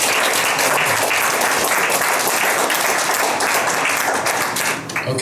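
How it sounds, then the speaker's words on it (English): A room full of people at a gathering honouring homeless military veterans breaks into dense, loud applause. The clapping holds steady for about five seconds, then begins to thin out at the end. "round of applause for"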